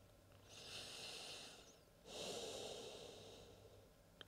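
Two slow, deep breaths during a gentle yoga session: a long, soft inhale, a brief pause, then a fuller, slightly louder exhale through the nose, close and quiet with no talking.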